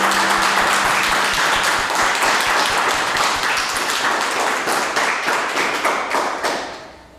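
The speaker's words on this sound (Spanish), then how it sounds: "Démosle un aplauso al Señor." Church congregation claps together in dense, steady applause that fills the room loudly, with a low hum at the start and the clapping thinning slightly before it fades.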